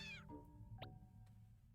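A single cat meow from the video game Impostor Factory, a short high call heard quietly and fairly close, with a low soft background hum.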